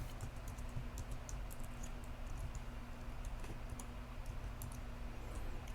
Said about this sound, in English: So type in my password.